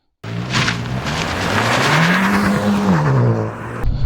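A Hyundai i20N hot hatch with a manual gearbox accelerates, its engine note climbing steadily through the revs, then easing off, loud and close.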